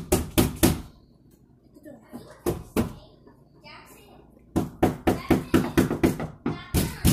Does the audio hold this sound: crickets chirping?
no